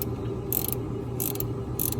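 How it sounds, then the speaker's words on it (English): A two-jaw puller works a harmonic balancer off a Ford Ranger engine's crankshaft, producing three short bursts of bright metallic ratcheting about half a second apart over a steady low mechanical rumble. "Here we go with a 2-jaw puller. Taking the harmonic balancer off"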